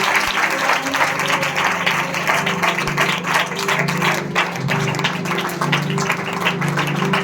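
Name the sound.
audience applauding for the Lord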